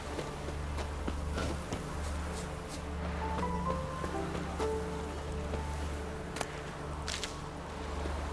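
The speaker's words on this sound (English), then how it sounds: "Rain again. Damn mages." Steady rain in the video game The Witcher 3, a continuous soft hiss of rainfall with scattered light taps and splashes, heard over a low ambient rumble and faint background tones.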